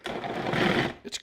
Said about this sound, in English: This is a really nice food processor.